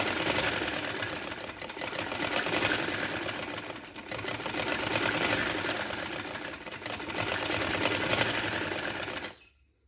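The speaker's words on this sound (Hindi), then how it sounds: "पूरी डबल सिलाई करें ताकि फिनिशिंग आए।" A sewing machine runs in steady bursts, double-stitching the neckline of a kurta, its fast mechanical rattle loud and continuous with short pauses before stopping abruptly.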